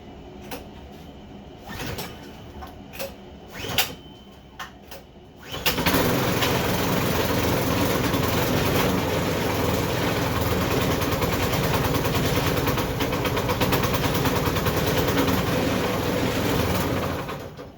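A Poulan Pro snow blower engine catches after a few short sputtering pulls and then runs steadily and loudly, with a constant rough drone close by.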